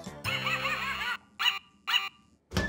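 A cartoon dog barks and yelps: one long, whining bark, then two short, sharp barks in quick succession and the start of another, all close and loud.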